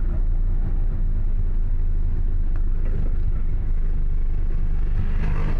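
A car drives slowly in second gear on a dark outer road at night, its engine a steady low rumble with continuous road and wind noise throughout, no voices.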